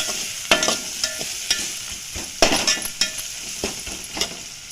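Chili powder stirred into a curry in a pan, heard as a sizzling fry under sharp, repeated spatula scrapes and clinks at an uneven pace, close by and without speech.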